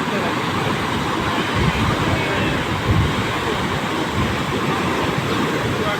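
Heavy surf about 15–16 feet high surges onto the beach at Kuakata during a storm warning, a steady, loud roaring wash mixed with gusting wind noise across the whole stretch.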